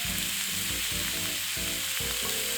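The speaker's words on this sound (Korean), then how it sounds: "위아래 뒤집어주면 더 골고루 구워집니다." Beef and vegetable rolls grill in a pan with a steady, close hiss and crackle of sizzling fat that runs unbroken for a few seconds.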